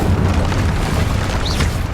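A Confringo fire spell blasts in Hogwarts Legacy, a deep, loud booming explosion that rumbles through the whole moment with a brief rising whistle near the end.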